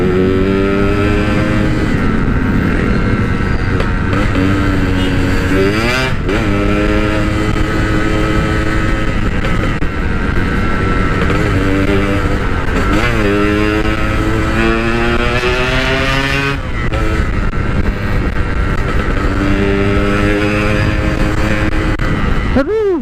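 A Yamaha RX King motorcycle revs loud and close in jammed traffic, its engine climbing in repeated pitch sweeps and dropping back between bursts, with someone talking over it at times.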